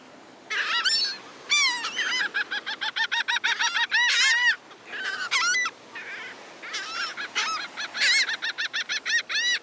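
A flock of seabirds calls and squawks near the Gulf shore at Bradenton Beach, a busy run of loud, repeated honking cries in quick bursts with short gaps, close by and steady throughout.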